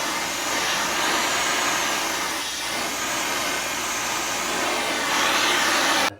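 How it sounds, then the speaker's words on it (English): Square body truck frame being straightened during a short box 4x4 build, a steady loud roaring hiss, likely a torch, running unbroken for several seconds before cutting off abruptly, with no voices. "That is the sound of our frame straightening."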